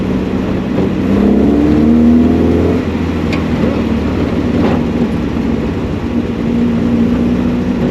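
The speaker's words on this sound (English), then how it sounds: "From a little 1300 petrol engine, which is more than enough for this little car" The Renobug, a small car with a little 1300 petrol engine, drives along with a steady engine drone. The engine rises briefly as it pulls through a gear, then settles into constant road noise.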